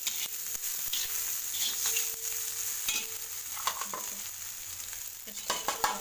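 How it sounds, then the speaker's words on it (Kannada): Chopped onion and mint fry in a pan with a continuous close sizzle, broken by light spatula taps and stirring scrapes that grow busier toward the end, no voices. "ಹಸಿ ವಾಸನೆ ಹೋಗೋವರೆಗೂ ಫ್ರೈ ಮಾಡ್ಕೊಂಡು ಈರುಳ್ಳಿ ಮತ್ತು ಪುದೀನ"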